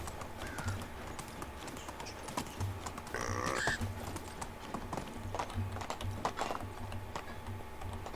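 A donkey walks with steady, even clip-clop hoofbeats in the medieval life-sim game Medieval Dynasty. The footsteps are moderately loud and continue without a break, with no talking over them.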